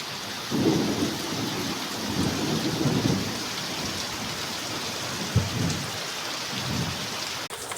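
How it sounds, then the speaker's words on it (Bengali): Heavy rain pours down steadily in a dense, close hiss, with deep thunder rumbles swelling in and out beneath it and no voices. "এখানে প্রচুর পরিমাণে বৃষ্টি হচ্ছে"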